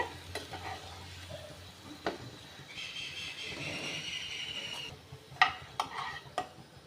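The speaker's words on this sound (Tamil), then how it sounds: "ரெண்டு சைடும் நல்லா பொரிச்சு எடுத்துக்கோங்க" Wheat flour breakfast pieces frying in a pan, with a soft steady sizzle throughout and a few sharp scraping clicks and taps from a utensil near the end.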